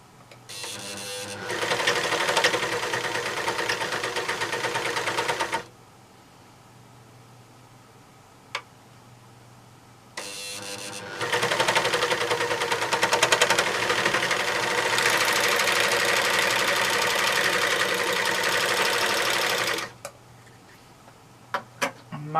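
A serger overlocker runs in two long, steady bursts of fast whirring stitching, loud and close, with a quiet pause between them and a few light clicks near the end.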